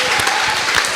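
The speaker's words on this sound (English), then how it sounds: "please, a round of applause for them" Loud, close applause from an audience at a Palestinian solidarity event, a dense flurry of individual claps with no talking.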